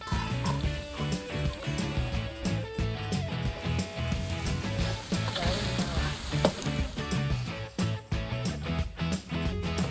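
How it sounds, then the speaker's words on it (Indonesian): Spice paste sizzles and crackles while being sautéed in a pan, a busy steady frying hiss with scattered pops and clinks of a utensil, fairly faint throughout. "sekarang saatnya menumis bumbu"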